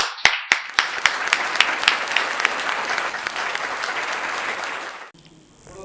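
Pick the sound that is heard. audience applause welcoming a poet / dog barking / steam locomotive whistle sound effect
audience applause welcoming a poet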